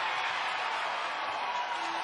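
A basketball crowd cheers at the Marriott Center, a broad continuous roar of many voices at moderate distance with no breaks.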